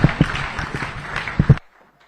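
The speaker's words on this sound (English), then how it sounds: "Another round of applause, ladies and gentlemen" Audience applause at the Merck Foundation Africa Asia Luminary Conference in Banjul, The Gambia: a burst of clapping with a few louder claps, ending abruptly after about a second and a half into near silence.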